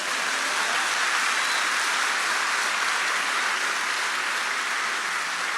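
Congregation applauding during a church family gathering service, a dense, steady wash of clapping that holds evenly throughout with no voices on top.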